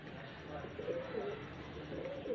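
Pigeons in Faisalabad coo softly and repeatedly in low, rolling calls, faint beneath a steady wash of outdoor noise.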